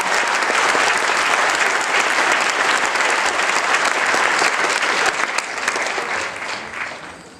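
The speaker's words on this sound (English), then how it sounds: "Please give all these students a round of applause for their dedication and hard work." A school magnet band concert audience applauds the band students, a dense, loud wash of clapping that holds steady and then tapers off toward the end.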